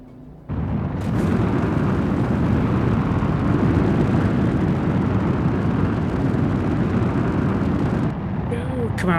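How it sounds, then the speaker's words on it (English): A loud spaceship engine in Star Citizen roars up abruptly and holds as a steady, heavy, broadband drone for several seconds before easing slightly near the end. "the ship is very loud"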